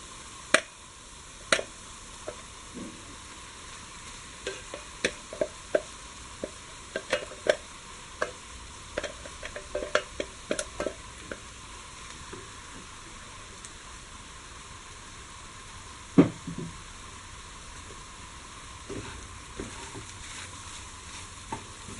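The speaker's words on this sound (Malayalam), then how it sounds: "കുറച്ചൊന്ന് ഫ്രൈ ആവുന്ന വരെ ഇത് നന്നായിട്ട് ഇങ്ങനെ ഇളക്കി കൊടുക്കുക." Minced beef frying in a pan with masala for Kerala-style cutlets, stirred with scattered scraping clicks and taps over a steady low sizzle, close and fairly quiet throughout.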